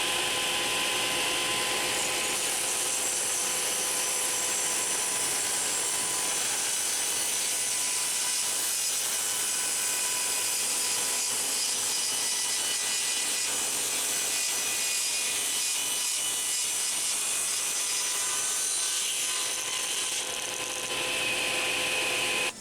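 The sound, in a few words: saw cutting a taper on a wooden table leg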